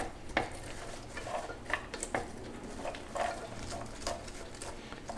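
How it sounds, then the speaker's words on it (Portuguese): A spoon scrapes and clinks against a pan in irregular strokes, stirring sizzling onions up close, with no talking. "Com a colher a gente vai até soltando aquelas cebolas que estavam meio grudadas"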